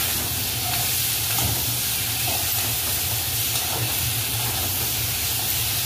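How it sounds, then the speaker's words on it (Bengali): Spice paste frying in a pan as chopped tomatoes go in for a Bengali shol fish curry with new potatoes and cauliflower, giving a steady, moderate sizzle and hiss with faint stirring scrapes throughout, no voices. "বন্ধুরা এই যে মশলা কষা চলছে, এর মধ্যেই কিন্তু মা দিয়ে দিচ্ছে কেটে রাখা টমেটো।"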